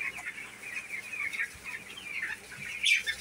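Many young broiler chickens, a flock of 250 birds about 14 days old, cheep and cluck together in a poultry shed, a steady busy chorus at moderate distance with one sharper call near the end.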